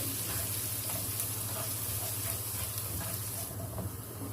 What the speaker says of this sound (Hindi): बारीक चॉप किया हुआ गार्लिक है, ऑन करेंगे।